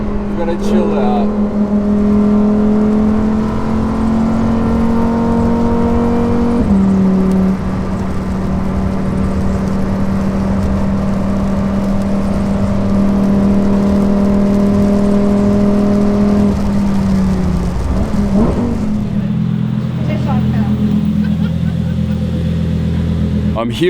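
A Lamborghini Huracan STO on a wet track pulls hard, its engine note holding loud and climbing through sustained acceleration with brief gear shifts, steady and close throughout.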